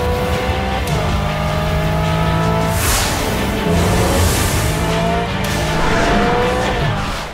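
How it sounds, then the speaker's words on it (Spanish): A Hyundai Ioniq 5 N electric car plays a simulated combustion-engine sound, a loud, continuous revving drone that climbs and shifts pitch in stepped gear-change patterns, heard from close up with no talking. "Un sonido es el sonido de un motor de combustión, un motor de explosión ahí dentro."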